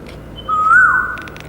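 A koel bird calling once, a single clear rising whistled note that holds for about a second over a soft, steady background hum.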